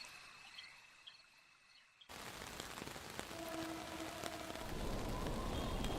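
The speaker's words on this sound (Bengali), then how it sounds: "ছাদের কার্নিশে টুপটাপ বৃষ্টি পড়ছে" Rain dripping onto a roof cornice, beginning abruptly after a quiet stretch and settling into a steady, dense patter that grows slightly louder toward the end, with no voices.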